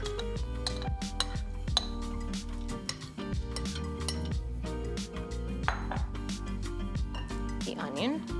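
Spoon clinking and scraping against a bowl while tomatoes are mixed for pico de gallo, repeated sharp taps and rattles in an uneven rhythm close by, with a person talking over it.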